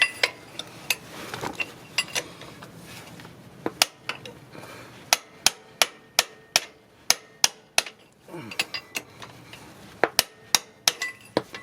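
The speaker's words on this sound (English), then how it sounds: "Insert this at the bottom and then top it with a hammer, and it will pop out" A hammer strikes a tool wedged against a CV axle on a 2011 Toyota Sienna, ringing in sharp metallic taps, sparse at first, then a steady rapid run of blows close by.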